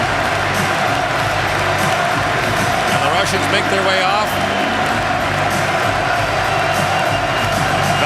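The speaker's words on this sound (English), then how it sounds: "And the Canadians join in that applause." Arena crowd applauding and cheering steadily after the Canada vs. Russia ice hockey world championship final, a dense roar that carries through the whole stretch beneath an announcer's commentary.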